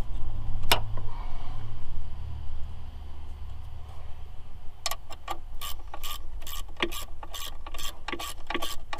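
Ratchet wrench loosening bolts on a 2007 Pontiac Grand Prix GT, with a single early click, then a fast run of close ratcheting clicks in the second half over a low background hum.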